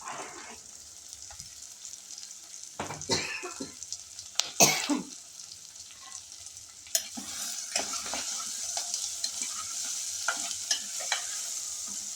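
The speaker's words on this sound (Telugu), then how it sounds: "ఇప్పుడు శామగడ్డ వేసుకుందాం. అవి కూడా కొంచెం ఆయిల్లో మగ్గాలి." Pieces of taro (shamagadda) frying in hot oil while being stirred, with a steady hiss under repeated scraping stirs and a few louder clatters near the start, then a continuing sizzle.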